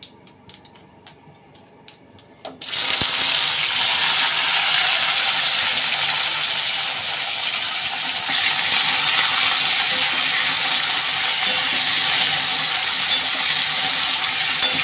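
Chunks of potato and taro dropped into hot ghee with cumin seeds: a sudden loud burst of sizzling after a quiet start, then steady, continuous frying crackle close by, with no talking.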